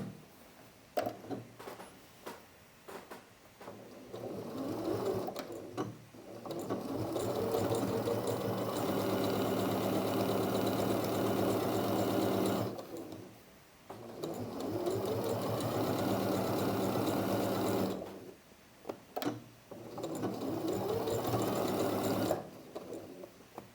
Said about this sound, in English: I'm going to sew that. Again, 1/4 inch seam, and that's our French seam complete.